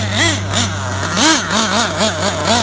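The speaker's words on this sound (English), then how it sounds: "A little half throttle passes, try not to blow her up." A Losi 8ight RTR nitro truggy engine buzzes loudly nearby at half throttle, its high-pitched whine rising and falling in quick, repeated surges.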